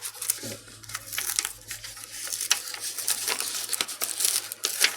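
Laminated paper stuck down with too much spray glue being peeled away, a continuous close crinkling and tearing crackle with sharper snaps as it pulls free, no talking.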